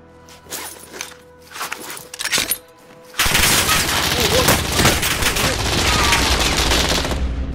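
Call of Duty Warzone gunfire: scattered shots and footsteps give way to a loud, sustained burst of automatic fire that continues for several seconds, close and dense.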